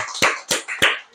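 Three short, sharp claps in a church service, evenly spaced and fairly close, then quiet.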